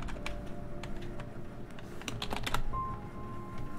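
Typing a message on a computer keyboard during play of the game Still There, with scattered clicky keystrokes, some in quick clusters, over faint game tones and a low background drone.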